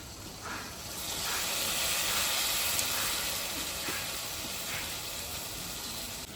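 Cumin and chilli paste added to fried taro in a hot pan gives a soft, even sizzle and hiss that swells slightly and then holds steady, fairly quiet, with no talking.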